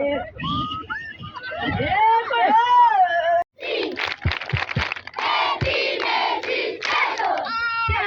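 Children at a primary school event clap and cheer together, a loud burst of crowd noise and shouts that runs almost without a break, with one adult voice heard at the start.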